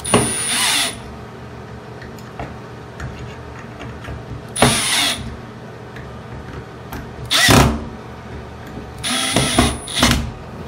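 A power drill drives screws through washers into anchors in a tiled wall to fix a wall-mounted sink plate, set to a low torque. It whirs in four short, loud bursts separated by quieter pauses.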